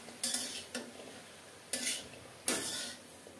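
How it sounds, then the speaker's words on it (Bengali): Green chillies fry in a pan, with four distinct scraping stirs over a faint, quiet sizzle, close and without speech. "কাঁচামরিচ ভেজে নিচ্ছি, লাউ শাকে দেব।"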